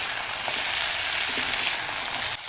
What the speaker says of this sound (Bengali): এবার এটাকে নেড়ে চেড়ে ভালো করে মিশিয়ে নিতে হবে